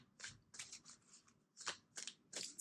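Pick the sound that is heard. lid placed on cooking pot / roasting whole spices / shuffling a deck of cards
shuffling a deck of cards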